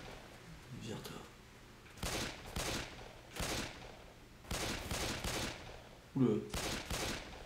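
Sharp bursts of gunfire crack out repeatedly in Left 4 Dead 2 video game combat, clustered volleys spaced across the stretch, with a man briefly exclaiming between the shots.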